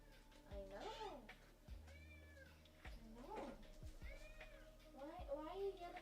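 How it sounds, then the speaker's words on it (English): A house cat meows several times, rising and falling yowls spaced a second or two apart, close and fairly loud, mixed in with a person talking indoors. "Oh, hold on, I hear my cat."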